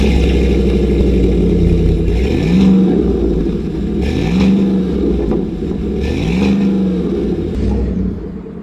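A 2023 Chevrolet Silverado RST with a 5.3-liter V8 and an MBRP side-mounted exhaust, heard up close as a deep, loud idle rumble broken by three sharp revs spaced a couple of seconds apart, then settling away at the end.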